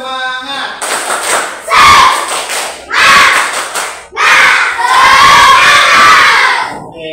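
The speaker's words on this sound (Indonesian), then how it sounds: "Tepuk semangat. Ulang, kurang semangat. Satu kali lagi." A group of children or students shouts and chants together in loud, rhythmic bursts with thumping claps, pausing briefly between rounds before a longer final burst of chanting and clapping.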